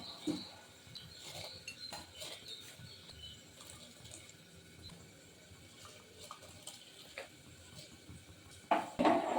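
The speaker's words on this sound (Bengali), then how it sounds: "ভালো করে নেড়ে নেব।" Washed rice being stirred into hot water in a pot gives soft watery sloshing and light clinks of a spoon against the pot, quiet and intermittent, with a louder knock near the end.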